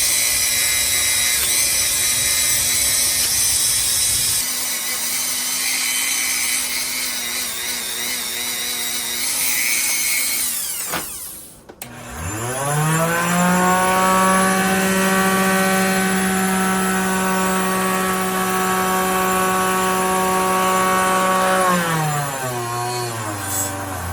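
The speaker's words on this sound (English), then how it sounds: "we're gonna try to use my Dremel tool to get as much as we can" A Dremel rotary tool whines at high speed against a Case XX Trapper knife, first a steady buzzing drone, then a brief stop and a fresh spin-up to a loud, even whir that winds down at the end.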